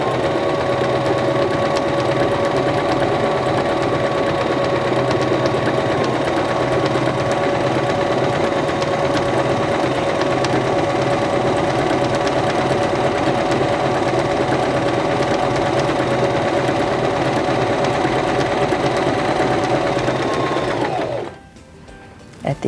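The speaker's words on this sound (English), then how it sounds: "Placing our fabric underneath our presser foot, we'll lower our presser foot, and then we'll press our foot control." A Singer Start sewing machine stitches fabric in one long continuous run, its motor giving a steady, close, even whir and rapid needle chatter before it stops abruptly near the end.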